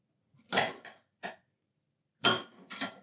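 A utensil knocks against a bowl in a few separate clinks while chocolate chips are folded into cookie batter, close and sparse with quiet pauses between them.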